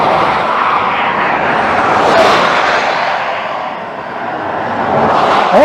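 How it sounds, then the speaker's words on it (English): Cars rush past on a road in North Wales, a loud continuous swell of tyre and engine noise that rises, dips and builds again. "wait for the cars to go past."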